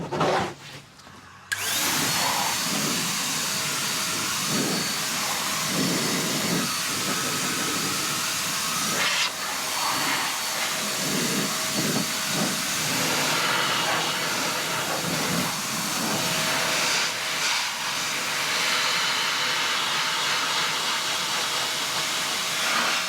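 A blow dryer drying the carpeted lining of car wheel arches hisses in a steady, loud, unbroken rush of air for over twenty seconds, briefly cut out near the start, with no talking over it.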